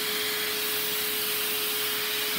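A LEGO SOHV 4x6 butterfly i2 vacuum engine runs fast, giving a steady, loud whirring buzz with an even mechanical hum throughout and no pauses.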